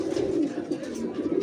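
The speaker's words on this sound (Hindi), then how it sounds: "सर ये देखें कबूतर" A wire-kept pigeon cooing up close, a low, throaty, continuous rolling coo that is loud and steady, with no voices over it.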